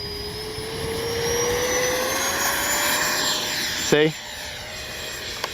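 A Freewing A-6 Intruder 80mm electric ducted-fan RC jet taking off, its steady whining roar rising in pitch as it gathers speed and climbs away, with a short spoken word breaking in near the end.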